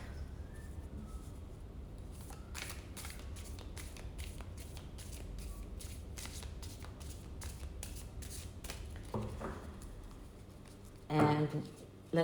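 A British Old Path tarot deck is shuffled by hand, soft quick riffles and card slaps in a quiet room, with a few louder taps and handling sounds toward the end.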